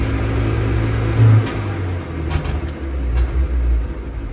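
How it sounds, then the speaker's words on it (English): A Honda Civic engine idles with a steady low rumble, then revs up gently and slowly under very light throttle, close by and without talk. "Very light throttle, and if I slowly add, I can get a little bit more. Get it to slowly rev up."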